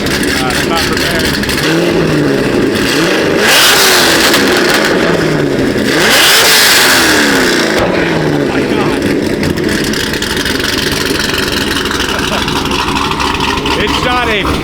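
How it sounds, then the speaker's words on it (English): Corvette C6 Z06 engine revved hard nearby, several sharp rising blips that swell and drop back, two louder bursts standing out mid-way, with a steady rumbling idle between. "then some revs from the C6 before we go out to Mexico."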